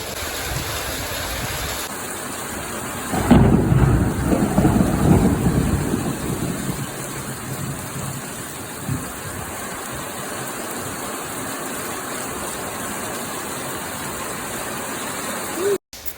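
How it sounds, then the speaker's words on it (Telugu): Steady heavy rain hisses throughout in Nellore, with a deep rumbling thunder roll swelling early on and slowly fading. "మేమున్న ఏరియాలో అయితే బీభత్సంగా వర్షం వస్తుంది"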